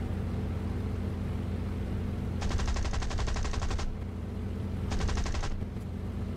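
Aircraft machine guns fire in War Thunder in two rapid rattling bursts, the first longer than the second, over a steady loud engine drone.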